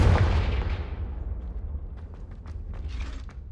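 A Confringo spell explosion in the Hogwarts Legacy video game, a loud boom already underway that fades into a long rumbling tail with scattered faint clicks and creaks.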